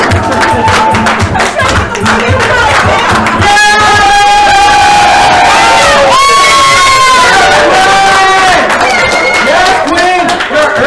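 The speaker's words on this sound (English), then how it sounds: "Let's cheer him on, Jesse!" A game show crowd cheers loudly and without a break, with shouting, whooping and scattered clapping, and voices rise and fall together throughout.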